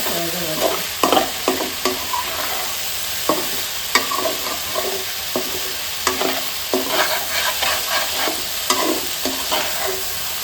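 Boiled potatoes frying in a pan and stirred with a utensil, a continuous sizzle broken by repeated scraping knocks at an uneven rhythm, close and moderately loud, with no talking.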